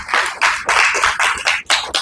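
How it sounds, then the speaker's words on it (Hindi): An audience at a Brahma Kumaris class claps in several short bursts, loud and close, a brief pause between each burst. "ताली भी थोड़ी ही बजा रहे हैं"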